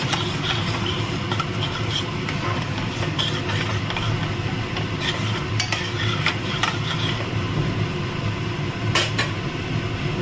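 Masala curry being stirred with a little added water in a pan, giving steady close scraping and clinking of a utensil against the pan over a constant low background hum, without talk.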